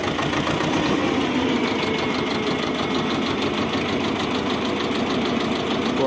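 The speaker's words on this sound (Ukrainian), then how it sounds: "Моторчик шепче дуже гарно, тихенько їде, не сапонить" A small engine idles steadily with a soft, even rumble and a faint rapid knocking rhythm, continuous throughout with no voices.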